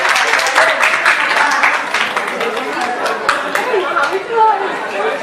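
Crowd at a school prize-giving ceremony applauds a student called to the stage, with scattered claps over lively chatter and voices, fairly close and loud, thinning toward the end.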